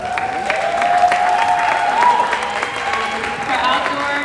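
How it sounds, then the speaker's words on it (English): An awards-night audience claps steadily for athletes, a dense continuous patter of hands filling the room for several seconds, with a voice speaking over the applause. "So a round of applause for you guys."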